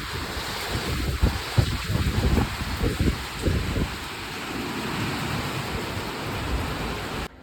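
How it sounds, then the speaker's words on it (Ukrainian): Strong wind with hail and rain buffets the microphone in heavy, roaring gusts, loudest early on and then settling into a constant rushing blow. "Сильний вітер."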